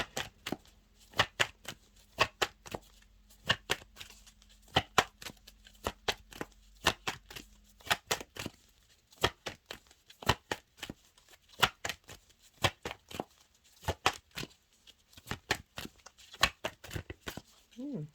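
Tarot cards being shuffled by hand, a long run of crisp riffling slaps and flicks in quick irregular bursts, close and fairly loud throughout, with no talk over them.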